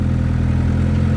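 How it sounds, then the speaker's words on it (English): Auger running while holes are dug to install a 34-foot rolling gate, a steady, loud mechanical engine drone with faint clatter over a very short stretch. "So the auger's working."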